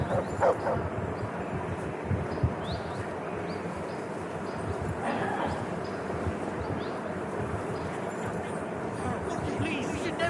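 Dog in Kingdom Come Deliverance 2 giving short yips and whimpering barks amid a noisy scene, with people talking over it.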